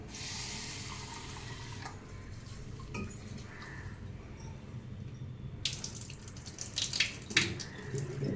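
Rice is rinsed under running water in a home kitchen before going into a pressure cooker: a steady, close stream with splashing and small clinks that grows busier and louder near the end, with no talking.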